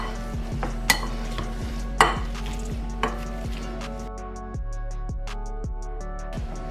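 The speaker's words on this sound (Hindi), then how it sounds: "अब हम इन सबको बहुत अच्छे से मैश करेंगे।" Homemade paneer mashed in a bowl with a utensil, giving soft scraping and a few sharp knocks against the bowl over steady background music.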